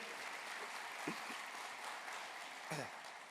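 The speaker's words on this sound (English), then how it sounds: "I expected applause for that, you know, I really did." Faint, distant applause from an audience at a 2024 nursing commencement and pinning ceremony at Kent State University at Tuscarawas, a brief patter of clapping heard from across a hall.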